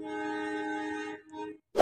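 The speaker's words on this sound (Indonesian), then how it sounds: "selanjutnya ini ada lokomotif Langsir dari kereta api Walahar" A shunting locomotive from the Walahar train in Purwakarta, Indonesia, sounds its horn: a steady tonal blast held for over a second, a short second toot, then a sudden loud burst of rumble.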